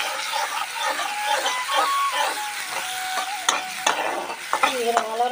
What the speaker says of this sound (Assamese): কঁঠাল গুটিখিনি ভাজি লৈছোঁ প্ৰথমতে পিঁয়াজৰ লগত।